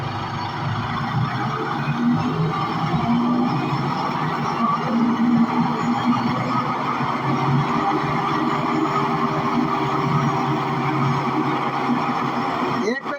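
A New Holland Workmaster 105 tractor engine runs steadily at a held rpm, a continuous loud low drone with constant level throughout, close by, with a voice present over it.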